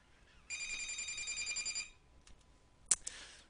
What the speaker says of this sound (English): interrupted by the phone